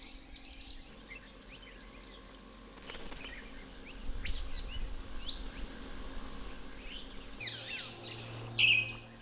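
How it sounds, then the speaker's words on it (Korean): Birds sing at dawn in the Manas jungle, scattered chirps and calls near and far over a quiet insect hum, with one louder close call near the end. "마나스의 고요한 아침을 깨우는 것은 새소리다."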